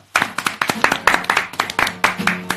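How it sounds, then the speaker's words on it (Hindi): Enthusiastic clapping from an audience welcoming a guest during a live stream, with sharp, closely spaced claps in an irregular burst that stays loud and close throughout. "जोरदार तालियां"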